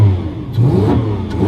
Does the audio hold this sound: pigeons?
no